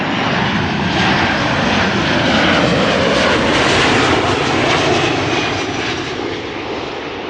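At Amsterdam Schiphol Airport, an airliner's jet engines spool up into a loud, sustained roar that swells and holds steady before easing slightly near the end, with no voices over it.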